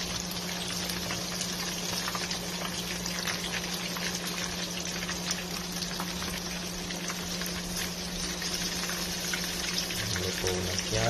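Pork feet crisp-frying in oil under a lid with garlic, butter and chili, a steady dense sizzle and bubbling that holds evenly throughout, close and moderately loud.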